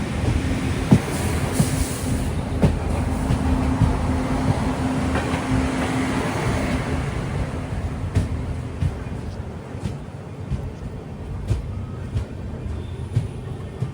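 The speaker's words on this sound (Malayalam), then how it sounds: "ട്രെയിൻ ഇപ്പോൾ കങ്കാവലി സ്റ്റേഷനിൽ ഇതാ എത്തി." The Mangala Lakshadweep Express rolls into Kankavali station with a continuous low rumble of wheels on rails, sharp clicks and clacks of the carriages at intervals, and a faint squeal, close and steady.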